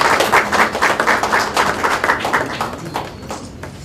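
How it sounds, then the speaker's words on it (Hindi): Audience applause at a trust's audio and video CD release programme for devotional bhajans, a steady wash of many hands clapping close by, holding loud before easing slightly toward the end. "तालियां बज रही हैं।"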